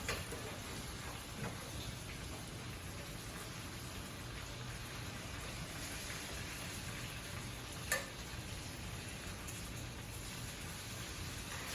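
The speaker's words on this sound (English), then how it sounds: "And once that butter's in there, sear the sides." Steak searing in butter in a hot pan gives a steady, soft sizzle and crackle throughout, with one brief sharper tick near the end and no talk.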